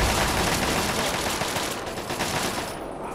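Sniper rifle fire in Fallout 3 forms a loud, dense, continuous barrage of rapid shots and blasts that fills the whole stretch, with a slight tail-off at the end and no speech.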